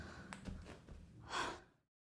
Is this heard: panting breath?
yes